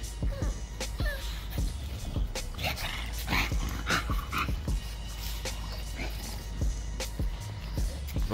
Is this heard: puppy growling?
yes